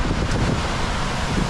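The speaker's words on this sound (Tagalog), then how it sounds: "Ang ganda ng alon, no?" Sea waves wash against a rocky shore with steady wind buffeting the microphone, a continuous broadband rush with no distinct breaks, close and fairly loud throughout.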